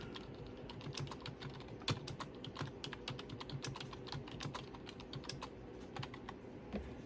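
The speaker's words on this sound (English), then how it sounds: "I'm going to type in" Keys clatter on a computer keyboard in quick, irregular bursts of typing, faint and close, with no voices over the soft tapping.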